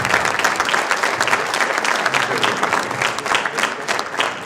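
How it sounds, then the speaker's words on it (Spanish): Audience at a university book presentation breaks into warm applause, a steady and fairly loud burst of many hands clapping that continues through the whole stretch. "doy paso al doctor Fabio Altamirano, les pido un aplauso para él."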